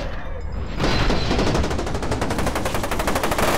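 Sustained automatic gunfire in the video game F.E.A.R. 2 as an enemy empties a full magazine, a loud rapid rattle of shots starting abruptly and continuing without pause.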